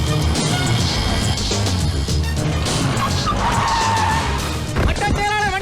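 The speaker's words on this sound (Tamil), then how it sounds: "என்னடா வண்டி நிறைய வர சத்தம் கேக்குது?" Many vehicles pull in with squealing, skidding tires and roaring engines, a loud continuous rush of motors and screeching under background music and voices.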